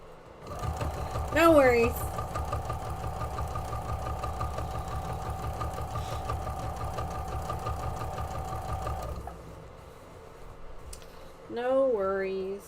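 A sewing machine stitches a quilted heart table runner in one long steady run of rapid mechanical whirring and needle clatter, close and prominent, stopping near the end; a voice speaks briefly near the start and again after it stops.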